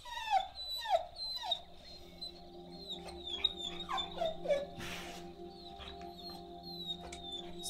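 Dog whimpering and yelping from the video game Copycat, a run of short high whines and yips in quick succession, up close over a steady game background hum.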